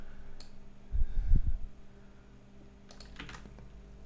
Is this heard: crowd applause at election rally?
no